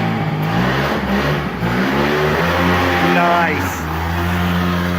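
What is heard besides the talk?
50cc Mini Rex two-stroke engine revving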